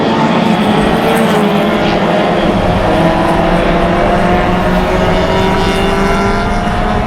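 Closed-wheel race cars, including a Porsche, racing through a turn sequence at Mission Raceway, their engines blending into a loud, continuous roar with no break in the noise.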